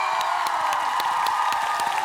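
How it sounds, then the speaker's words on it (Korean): Studio audience on a Korean TV quiz show claps in a steady, rhythmic burst of applause, loud and continuous with no talking. "박수 한번 보내세요"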